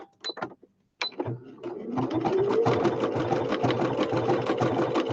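A sewing machine stitching embroidery stitches on blue lace: a few short clicks and pauses, then a steady fast mechanical whir and clatter running loud and close to the end.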